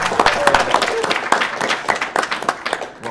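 Live audience at an Awesome Games Done Quick 2017 speedrun marathon of Metroid Prime, clapping and cheering in a sustained burst of dense claps with crowd noise and voices mixed in.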